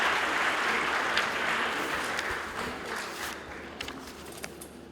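Audience applause at a university convocation in Lahore, a broad steady wash of many hands clapping that gradually thins toward the end, with scattered individual claps standing out; no talking.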